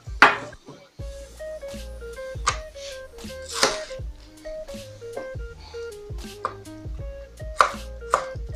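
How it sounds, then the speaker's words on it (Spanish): Pineapple being chopped with a knife on a board, a string of firm, close chops at an uneven rhythm over music with a clear melody. "Vamos a picar un poco de piña."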